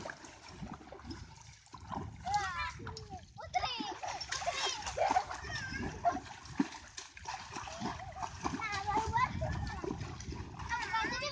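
Water splashed over a person outdoors, with repeated splatters and sloshing throughout as children and adults shout and talk excitedly over the noise.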